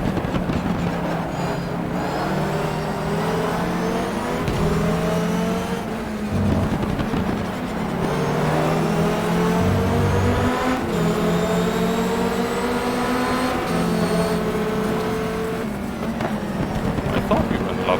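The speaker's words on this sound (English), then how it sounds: "probably just overdrive the car" Race car engine in the GTR 2 racing game, loud and continuous, rising and falling through gear changes and sustained high revs for the whole stretch, with a voice talking over it.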